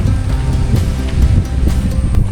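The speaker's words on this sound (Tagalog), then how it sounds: "Kaso minsan kasi may ulan saka to malakas yung hangin." Strong wind roars and buffets the microphone in constant loud gusts, with no voices, at a seaside spot in Real, Quezon, Philippines.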